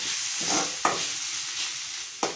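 Finely chopped tomato sautés quietly in a pan for a chicken roll filling, a soft steady sizzle broken by a few brief scraping stirs of a spoon.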